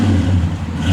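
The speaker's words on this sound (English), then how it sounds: "Great sounding exhaust." A 1966 Buick Skylark with an X-pipe exhaust revs up close, giving a loud, sustained, throaty engine drone with a steady pitch over the brief moment.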